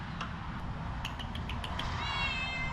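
A domestic cat meows aboard a C-Dory boat during a roof fan installation, a short, moderately close call rising near the end over steady low background noise.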